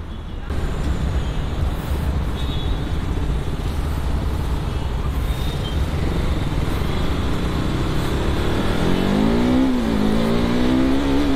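A motorbike riding along a road, a loud steady engine drone with rushing wind noise throughout, rising in pitch near the end as it speeds up.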